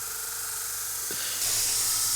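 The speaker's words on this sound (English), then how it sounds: "Now it's time to hit the belt sander and grind down the rough edges." A belt sander grinds down the rough edges of a blade, giving a steady, close abrasive hiss that grows slightly brighter toward the end.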